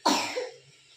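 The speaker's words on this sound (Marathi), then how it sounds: "खोकला आला तिला." A young girl gives one sharp, close cough with a short rasping tail, then quiet.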